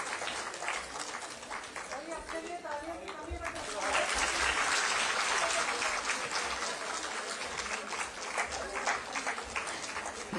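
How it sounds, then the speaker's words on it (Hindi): Hall audience clapping at an Anganwadi supervisor appointment ceremony in Dehradun, swelling into steady sustained applause with a voice speaking over the start. "तालियों की करतल ध्वनि बजती रहे"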